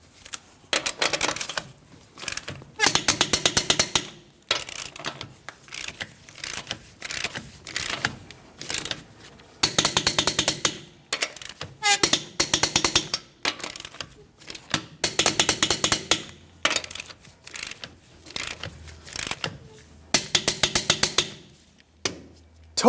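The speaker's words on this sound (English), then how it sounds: "Let's go ahead and torque each one of our lug nuts to that 148 foot-pounds." A torque wrench tightens the lug nuts on a Ford Transit 250 van wheel in repeated bursts of sharp ratcheting clicks, close and loud, separated by short pauses as it moves from nut to nut.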